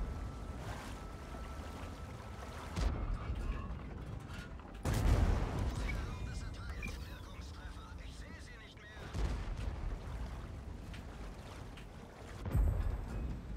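Tank cannon fire in the game World of Tanks, heavy booming shots at a few points among a continuous rumbling engine and battle din, with someone talking in German over it.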